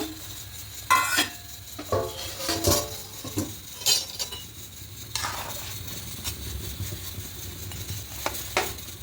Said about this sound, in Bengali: ঢাকাটা খুলে নেব এবার এখানে মাছগুলো দিয়ে দেব